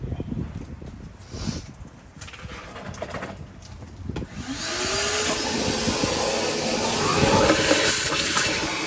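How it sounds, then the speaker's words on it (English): A vacuum is used on a 1976 Oldsmobile Vista Cruiser that had sat for more than 21 years: scattered clunks and handling noises come first, then the motor spins up into a loud, steady, hissing roar that runs to the end. "I'm gonna grab the vacuum and hit this little"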